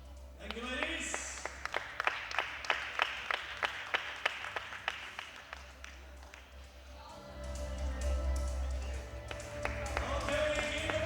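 Rhythmic applause rings out from the audience at a women's 47–52 kg equipped powerlifting world championship, a steady run of claps that swells into broader, louder crowd clapping with background talk over a low hum.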